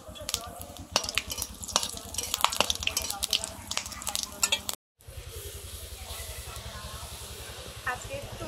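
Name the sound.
whole cumin, dried chillies and garam masala sizzling in oil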